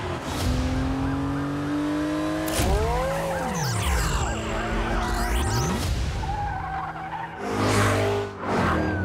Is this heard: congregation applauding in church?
no